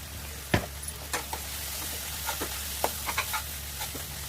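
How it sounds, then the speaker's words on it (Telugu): Turmeric stirred into amaranth leaves frying in a pan, giving a soft steady sizzle with a few light scrapes and taps of the spoon, close and fairly quiet, no voices. "పసుపు వేసి కలుపుకోవాలి."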